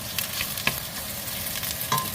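Garlic sautéing in a pan for wanton soup gives a steady close sizzle, with a few sharp scrapes and clinks of a utensil stirring through it.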